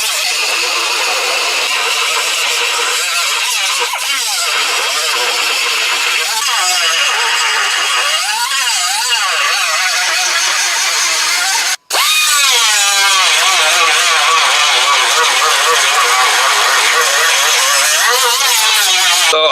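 An angle grinder cuts through spot welds on a badly rusted, rotted car body panel, a continuous loud, harsh metallic whine that holds steady for the whole stretch with one brief cutoff partway through, while someone talks over it.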